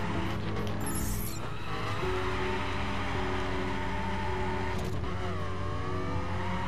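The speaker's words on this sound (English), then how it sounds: "Oh, look at that drifting." A car drifts around Salt Lake City streets in the racing game The Crew, its engine droning steadily while tires squeal in long sliding, pitch-bending wails, loud and close throughout.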